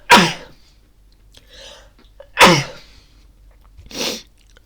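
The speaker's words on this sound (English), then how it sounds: "Gesundheit." Two sharp, close human sneezes about two seconds apart, each a sudden loud burst, followed by a softer breathy exhale, with quiet room tone between.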